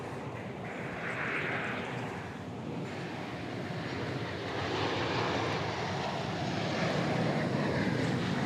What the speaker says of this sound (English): We've got a Cargo Lux 747-8 arriving from Mexico City.